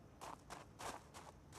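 Zombie footsteps in the video game Project Zomboid, a run of fairly loud, scuffing steps at an uneven pace, standing alone with no talk over them.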